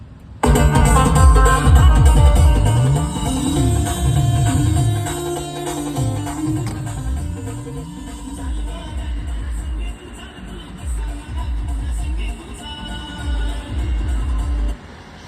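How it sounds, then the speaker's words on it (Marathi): A restored truck's aftermarket sound system plays loud music through its speakers, a booming bass-heavy track with a melodic line that runs continuously and close. "साऊंड सिस्टीमचा आवाज चेक करून दाखवतो तुम्हाला."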